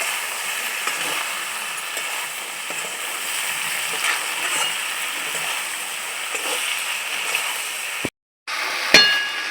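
Okra fries in a pan for a vegetarian curry, a steady, close sizzle running throughout, broken briefly by a short gap and a clink near the end.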